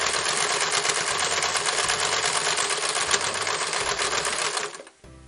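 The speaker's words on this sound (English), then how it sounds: "you can start going quicker on the sewing machine" A sewing machine stitches a DIY tote bag in a fast, steady rattling run that stays even for several seconds, then stops abruptly near the end, leaving quiet.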